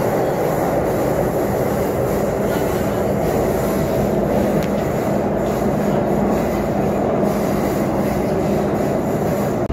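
A Pune metro train runs through the tunnel beneath the Mula-Mutha river, a loud, constant rumbling roar of wheels and motors heard from inside the car, with no voices.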